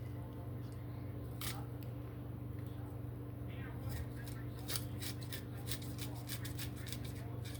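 A knife strips kernels off a boiled, shucked corn cob in a home kitchen, making repeated crisp scraping strokes close by over a steady background hum.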